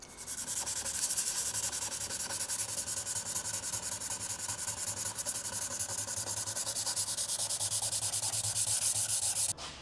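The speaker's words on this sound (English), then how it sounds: "I thought I'd sanded through the carbon fibre weave on the driver's side mirror, but I haven't." Clear coat being sanded off a carbon fibre wing mirror from a Mk2 Golf, producing a steady, close, gritty rubbing hiss in quick back-and-forth strokes for nearly ten seconds, then stopping abruptly.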